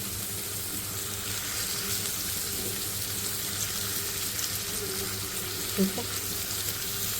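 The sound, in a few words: minced chicken keema sizzling on a tawa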